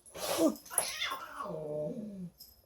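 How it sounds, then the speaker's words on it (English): Two house cats fight close by, with loud yowling and caterwauling that rises into strained wails, then a long drawn-out growling moan that trails off near the end. "That's my cats fighting."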